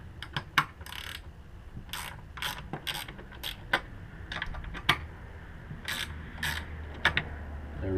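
A ratchet clicks in quick bursts while loosening 10mm bolts on a 2013 Ford Focus ST, close and crisp, with short pauses between each run of clicks.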